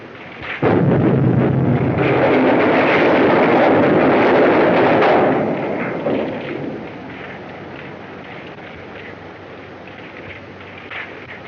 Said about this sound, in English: Duck, quick, before that gas tank explodes.